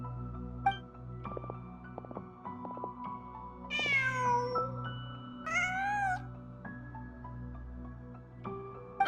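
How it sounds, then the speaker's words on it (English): A cat meowing in the video game Genshin Impact, two distinct wavering meows a couple of seconds apart, clear and fairly close over a soft ambient music bed with scattered chime-like tones. "Just a cat."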